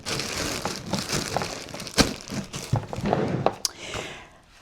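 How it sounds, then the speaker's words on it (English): A packing bag for a long trip being zipped shut and then squeezed to push out the air, giving close, loud crinkling and rustling with short sharp scrapes that fade at the end. "And just zip that up, squeeze out the air."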